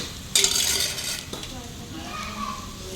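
Mutton with turmeric is stirred in a pan, giving a loud scraping and sizzling burst at first that then settles into quieter frying with faint utensil scrapes.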